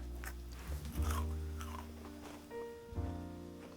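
A few crisp bites and crunches into a brittle chocolate walnut meringue cookie, close up, with soft chewing between them and no talking.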